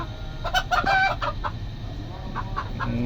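Gamefowl roosters cluck in short, close bursts while drinking, with several quick clucks early followed by quieter scattered calls over a low background rumble.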